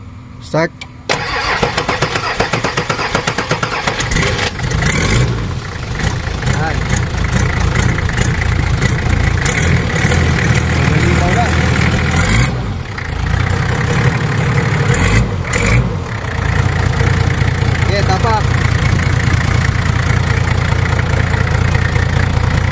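A turbocharged Nissan Patrol TD42 diesel with full exhaust cranks, catches and settles into a loud, rough, continuous idle with a few brief revs, while people talk nearby.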